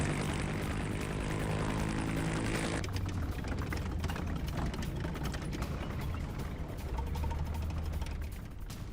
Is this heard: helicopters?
yes